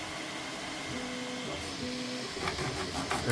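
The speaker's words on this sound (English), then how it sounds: "Cleaning the print head." A Bambu Lab A1 3D printer cleaning its print head: close mechanical whirring with stepped motor tones that rise and shift, followed by brief scraping rubs near the end, heard alone without talk.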